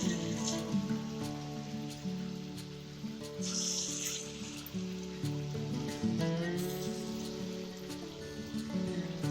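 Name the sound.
snake gourd fritters frying in hot oil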